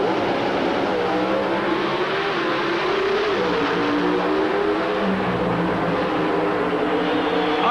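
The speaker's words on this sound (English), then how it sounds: "Now, the final race in Pro Stock Eliminator." Pro Stock drag race cars in the 1989 NHRA final, a steady, loud engine roar that holds for the whole stretch with a rising whine toward the end, no voices.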